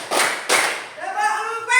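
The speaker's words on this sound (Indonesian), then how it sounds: "Tepuk 1, tepuk 2, tepuk 3," A teacher leads a classroom clapping count: two sharp, close hand claps ring out in quick succession, followed by a sung or spoken voice.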